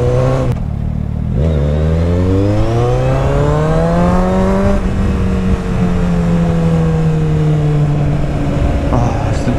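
A motorcycle engine sounds close and loud while riding, its pitch climbing as it accelerates, dropping briefly at a gear change, then rising again and settling into a steady drone with wind noise.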